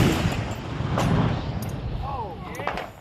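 Cannon firing in a loud outdoor burst, broadband boom and rumble holding through most of the clip, with a few brief sharper cracks near the end.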